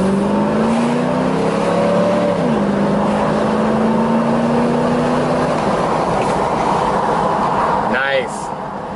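A clean Cadillac Allanté Pininfarina convertible cruises down the road with a steady engine hum and wind roar, the engine note rising and shifting as it drives, while someone talks over it.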